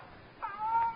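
A cat cries out after its tail is stepped on, a single short, rising meow-like wail lasting under a second, close and fairly loud against a faint background.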